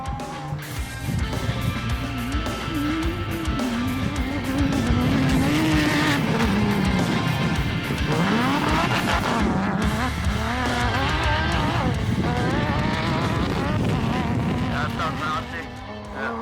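A desert racing buggy drives slowly around a stadium at the Finke Desert Race in Australia, its engine whining and revving in rising and falling sweeps while tyres squeal, and people talk over the steady mechanical noise.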